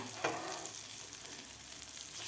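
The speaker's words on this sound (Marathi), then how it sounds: "आता 1 मिनिटभर आपल्याला खालची बाजू फ्राय करून घ्यायची आहे" Egg and capsicum rings fry quietly in a pan, a faint steady sizzle with one brief scrape near the start, close by and no speech.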